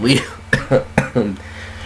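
Several harsh coughs burst out in quick succession from a nearby person, mixed with some voiced sounds between them.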